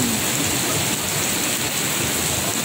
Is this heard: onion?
no